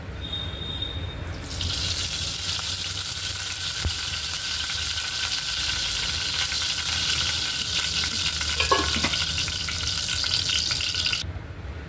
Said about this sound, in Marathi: तर आपल्याला हे सर्व बटाटे आता तळून घ्यायचे. तळून म्हणजे फ्राय करून घ्यायचे, शॅलो फ्राय.